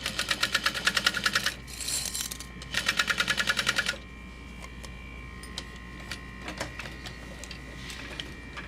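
A domestic sewing machine basting backpack fabric runs in two fast rattling bursts with a pause between, then stops, leaving quiet room noise and a few light clicks and handling taps.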